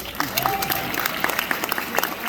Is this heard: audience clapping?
yes